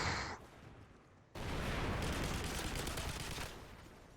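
Heavy machine gun fire in Modern Warfare 3 survival mode, a brief burst followed by a dense, loud sustained barrage of rapid shots lasting several seconds with no talk.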